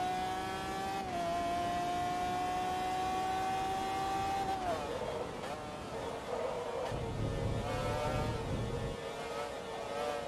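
A race car engine over-revs in Forza Motorsport 2, a loud sustained high whine holding near the limiter, then dropping in pitch as it shifts and revs again, alone with no talk.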